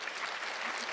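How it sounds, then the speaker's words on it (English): An audience breaks into a big round of applause at an education event, with dense, steady clapping filling the whole moment at close range. "I do think this deserves a big round of applause."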